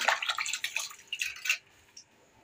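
Water runs and splashes as a pot is rinsed under a tap, with close sloshing bursts for about a second and a half before it settles to faint drips and quiet.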